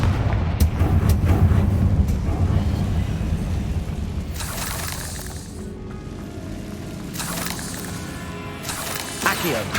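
A Confringo blasting spell explodes in the Hogwarts Legacy game, producing deep booming blasts and rolling rumble that swell and fade, with game voices speaking over parts of it.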